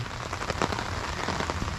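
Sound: rain falling while fishing

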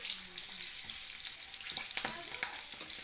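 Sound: green chillies frying in hot oil

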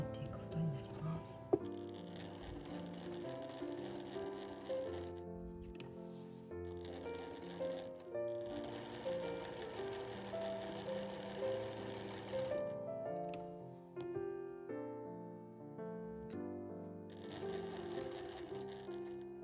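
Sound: sewing machine stitching tote bag fabric

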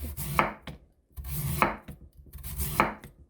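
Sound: knife julienning radish on a cutting board

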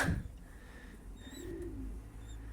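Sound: Mardin pigeons cooing

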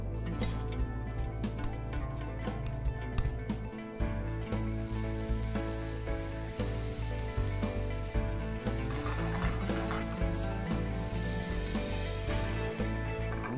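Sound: butter sizzling in a hot Tefal frying pan

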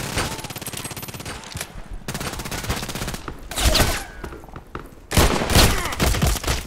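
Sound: revolver shots, Colt Python Elite, in video game Contract Wars

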